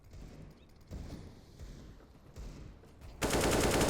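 Pistol gunfire in a Counter-Strike match, rapid bursts of shots and thuds in the background, swelling into a dense, loud barrage near the end.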